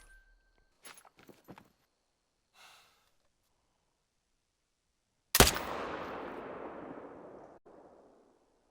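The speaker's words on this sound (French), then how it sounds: "J'ai tiré à bout portant" A hunting rifle fires once at point-blank range in Call of the Wild: The Hunter, a sharp loud crack with a long rumbling decay, after a few soft faint clicks and breaths.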